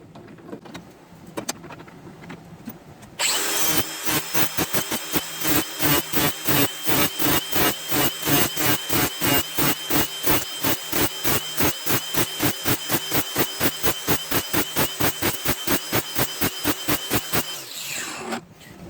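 Rapid, steady metallic scraping strokes, a hand file worked back and forth on a lawnmower blade, running evenly for about fifteen seconds before stopping.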